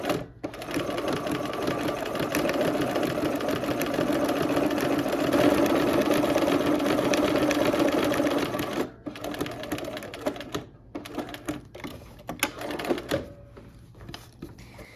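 A sewing machine stitches steadily for several seconds, tacking down lace underneath, with a loud even needle rattle that stops abruptly and is followed by short bursts and handling noises.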